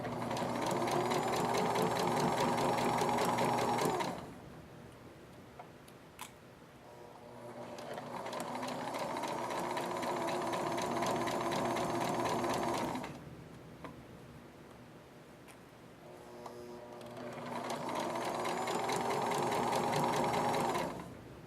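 A sewing machine stitches fabric in three sustained, close runs with short quiet pauses between them, its motor humming steadily with a faint ticking rhythm.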